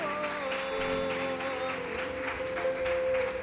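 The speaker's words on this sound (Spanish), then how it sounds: "¿Cuántos le pueden dar ese fuerte aplauso a Jesús?" A church congregation claps in a strong round of applause during a worship service, a dense steady patter that continues throughout, layered over sustained musical tones.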